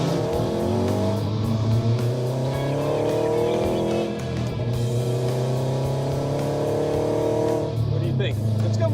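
Off-road Dodge Challenger accelerating on a test drive, a loud engine climbing through repeated rising revs with gear changes and a roaring exhaust, close and steady throughout, with voices talking over it.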